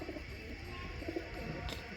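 Pigeons cooing nearby, soft low throaty coos in short bursts over a steady background hum, faint and close.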